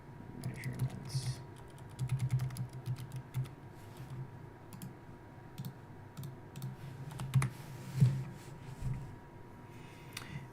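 Computer keyboard typing, a steady run of soft, close key clicks at an uneven pace over a faint background hum, with some quiet speech mixed in.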